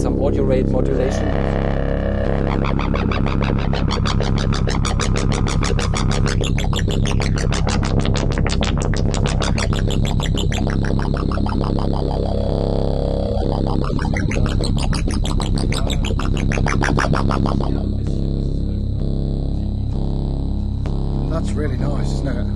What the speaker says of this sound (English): Now let's add some even more nasty tones and maybe some audio rate modulation.